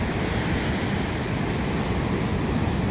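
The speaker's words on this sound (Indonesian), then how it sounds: "inilah suasana pantai" Ocean surf at Gesing Beach in Gunung Kidul rumbles as a steady, dense wash of breaking waves, broad and unbroken for a few seconds with no voices.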